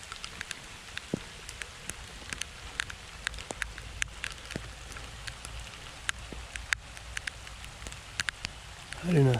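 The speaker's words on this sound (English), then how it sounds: "it just started raining real hard" Rain patters on a surface in scattered, irregular drops and taps, fairly close, with a louder rustle or bump at the very end.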